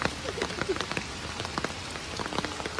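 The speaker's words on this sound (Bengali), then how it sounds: "বৃষ্টি এসে গেছে" Steady rain patters on a surface, with scattered close drops ticking over a soft hiss and no talking.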